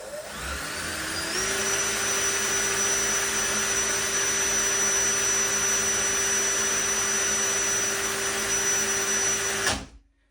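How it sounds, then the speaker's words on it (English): A Dremel rotary tool fitted with a small file grinds the front of a metal dough gun nozzle for boilies, a steady high-pitched whine running almost the whole time, close and loud, then cutting off near the end. "So we'll just finish off the front of it now with the finishing stone."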